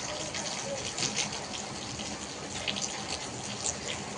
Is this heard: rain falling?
yes